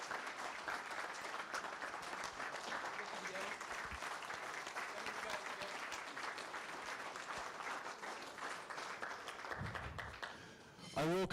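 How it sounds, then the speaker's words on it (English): A hall of fame ceremony audience gives a sustained round of applause, dense and even for most of its length, fading slightly near the end as a few voices and a brief bump of noise come through. "let's give another round of applause to the 3rd team ever in the Southern history"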